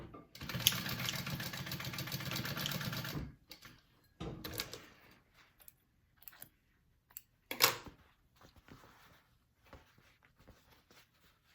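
A sewing machine stitches quarter-inch seams on a game bag in a steady run of a few seconds, followed by a shorter burst and scattered handling clicks and thumps, close and moderately loud.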